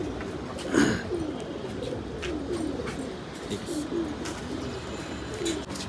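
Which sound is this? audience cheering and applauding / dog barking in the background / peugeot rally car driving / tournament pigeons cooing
tournament pigeons cooing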